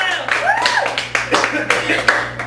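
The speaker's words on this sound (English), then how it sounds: "I want to give a pre-applause. Give it up for Oz Hardwick" Sparse, uneven clapping from a small audience at an open-mic poetry night as poet Oz Hardwick is welcomed, with a voice talking and whooping over the claps.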